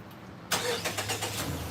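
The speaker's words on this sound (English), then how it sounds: "And the car crank up." A car whose key fob had failed after a dead battery cranks briefly and fires up, settling into a steady idle, close by with no talk.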